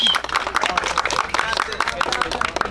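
A crowd applauds Kenny at a freestyle exhibition, a dense patter of clapping that runs steadily for under three seconds with voices mixed in.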